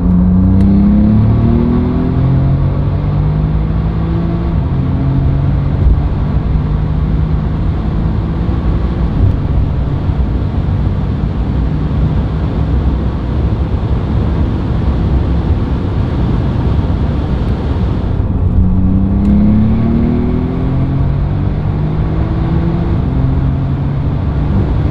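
Tuned Porsche 997 Turbo MK2 with a 3.8 DFI engine and PDK gearbox accelerating on the road, a loud, steady engine roar rising in pitch twice with a brief shift break, heard from inside with no talk.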